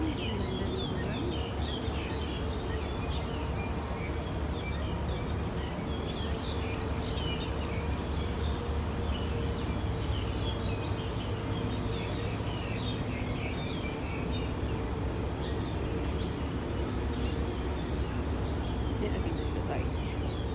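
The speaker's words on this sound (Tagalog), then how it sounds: "Ang daming mga ibon" Many birds chirp and tweet in a walled city park in Kowloon, Hong Kong, their scattered calls layered over steady traffic and ambient hum while a person talks throughout.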